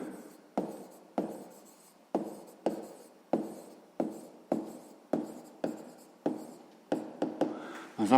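A pen writes out a sixth-grade math solution on paper in a quiet room, with a regular series of short scratchy strokes, each a sharp onset that fades, close and clear, and no talking.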